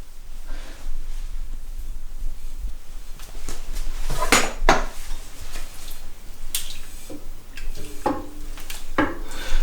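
A muslin cloth is fitted into a metal brewing pan for a brew-in-a-bag pale ale, with scattered rustles, clinks and knocks against the metal coming close and uneven, and no talking.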